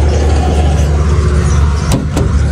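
A Scania truck engine runs loud and close as a steady, heavy low rumble with little change, two brief metallic clicks near the end, and no clear rise in revs.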